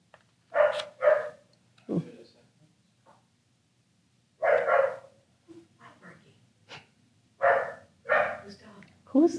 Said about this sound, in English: It doesn't sound like the dogs that are normally here.